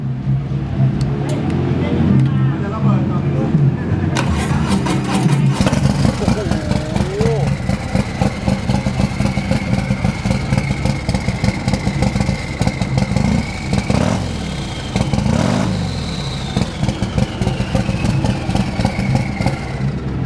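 Tuned race car engine with an aftermarket ECU revving at a motor show booth, loud and close, running a continuous series of sharp throttle blips over a rough idle for about twenty seconds. Voices talk over it.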